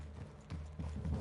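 Horse hooves clip-clop in a Red Dead Redemption 2 woodland clearing, a steady, muffled walking rhythm of several close steps with low ambient rumble beneath and no talk.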